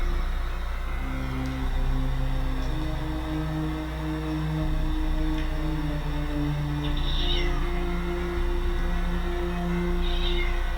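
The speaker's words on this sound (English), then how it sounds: "Just continuously meowing, and staring at that door." A cat meows continuously at a door, one drawn-out, wavering call after another, loud and close, with a steady low hum underneath.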